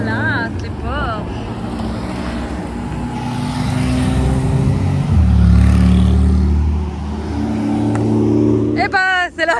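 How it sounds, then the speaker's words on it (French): Porsche sports cars driving past in the street of a French town, their engines rising to a loud, close rumble and fading, while people talk excitedly over them. "Regarde les belles Porsche."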